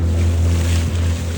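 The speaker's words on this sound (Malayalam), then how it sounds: "വള്ളം നല്ല സ്പീഡിലാണ് ചേട്ടൻ പോയിക്കൊണ്ടിരിക്കുന്നത്" A fast fishing boat runs across the sea with a deep steady engine drone and a rush of wind and water spray, loud and constant through the brief moment with no talk.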